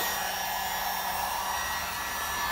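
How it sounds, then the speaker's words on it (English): A hairdryer or heat gun heating a car bumper blows a steady, loud, close airy roar with a constant motor whine throughout, alone with no talking. "so grab a hairdryer or heat gun."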